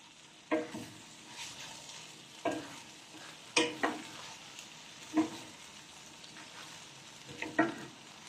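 Leftover lechon sisig stirred in a pan, with sharp scraping and clanking strokes every second or so over a low, steady sizzle, close and fairly quiet with no talking.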